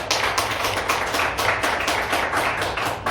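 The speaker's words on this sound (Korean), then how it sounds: "우리 하나님께 박수합시다." A church congregation at a Korean Sunday worship service claps together in a loud, steady rhythm, the beats repeating evenly with no voices over them.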